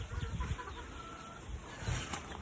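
Chickens out on a poultry range cluck in a few soft, scattered bursts, fairly faint and without any talk.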